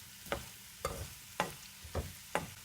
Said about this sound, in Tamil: கிழங்கை மீடியம் ஃப்ளேமில் வச்சுட்டு நம்ம வதக்கணும்